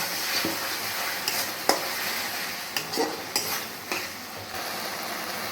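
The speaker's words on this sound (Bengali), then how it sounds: "এবার একটু সামান্য জল দিয়ে আমি মশলাটা আরেকটু কষিয়ে নেব।" Spice masala for a Bengali prawn and pointed gourd curry fries and sizzles steadily in a pan with a little water, with a spatula scraping and stirring in repeated sharp strokes. There is no talking.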